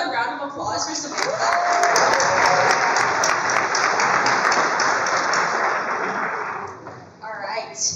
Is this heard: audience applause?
yes